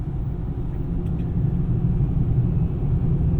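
Inside a 2025 Ford Maverick Tremor on the road, a steady low tire rumble and road roar fills the cabin, constant and fairly loud, with no voices.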